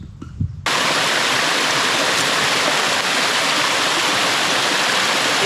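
A loud forest brook rushes in a dense, steady roar. It starts abruptly after a brief quieter moment and holds unbroken, close and full.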